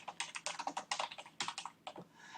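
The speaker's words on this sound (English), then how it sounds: "So, you would start typing." Fingers type rapidly on a computer keyboard, a close, quiet patter of clustered key clicks with short pauses between bursts, no talk.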